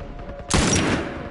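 In a video game, a sudden loud burst of gunfire starts abruptly after a quiet moment and sustains as a dense blast to the end.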